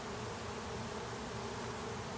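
A honey bee swarm being collected at an apartment complex, a dense continuous buzzing hum, close and steady throughout the brief moment with no voices.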